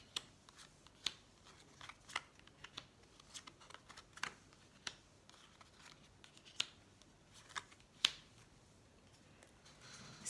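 Tarot cards are shuffled and laid out one by one for a nine-card spread, giving faint, sparse snaps and soft flicks at an uneven pace in an otherwise quiet room.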